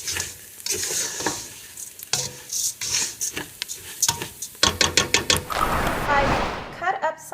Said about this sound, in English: So I keep stirring this